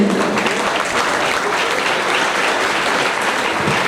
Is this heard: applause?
yes